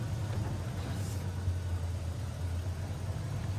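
A safari vehicle's engine running high and steady, a constant low droning hum that fills the whole stretch at moderate loudness.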